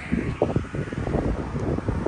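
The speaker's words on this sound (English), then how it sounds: "Quite a windy day, a little bit wet, but mainly windy." Gusty wind on an Appalachian Trail mountain path near Hot Springs on a wet day, a continuous low buffeting roar with irregular rumbling gusts against the microphone.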